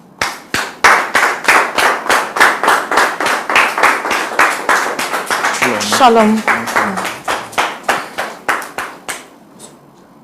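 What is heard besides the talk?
audience applause and clapping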